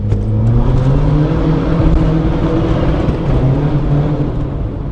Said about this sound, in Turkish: Polo arabamızın 2'de 60 km süratte turbo basıncını doldurarak aracımızı hızlandıralım.